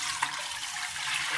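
About 1.5 litres of water pours into a large pot, a steady, close rushing splash that holds at an even level throughout the short stretch.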